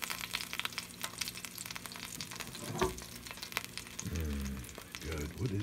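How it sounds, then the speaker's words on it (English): New York strip steak sizzling and crackling in an air fryer, a steady close hiss and pop throughout, with a voice talking in the last couple of seconds. "Gotta love an air fryer"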